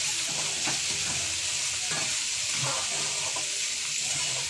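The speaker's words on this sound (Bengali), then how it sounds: "তেলটা গরম হয়ে গেছে, এর মধ্যে শুকনো লঙ্কা, জিরে ফোড়ন," Dried red chillies and cumin seeds sizzle in hot oil in a wok, a steady close crackle with scattered spattering pops, mixed with stirring scrapes and a watery hiss.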